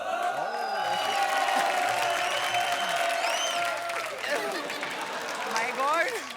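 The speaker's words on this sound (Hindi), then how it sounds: "जोरदार तालियों के साथ स्वागत कीजिए" A TV comedy show's studio audience applauds and cheers for several seconds, a dense wash of clapping mixed with crowd noise and music, while voices are heard over it.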